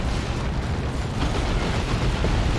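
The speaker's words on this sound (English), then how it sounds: "Auto cannon doing some decent work" Autocannon fire in the Warhammer 40,000: Dawn of War 2 battle between Chaos Space Marines and Orks: a dense, unbroken barrage of booming bursts and rumbling impacts, loud and crowded, without talk.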